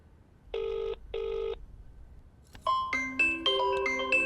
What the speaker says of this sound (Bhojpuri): देखा केकर फोन है?